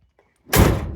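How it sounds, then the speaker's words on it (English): A Chevrolet C10 pickup truck door swings shut with one loud, close metallic slam after near silence, followed by a brief rattling decay. "the good news is both doors open"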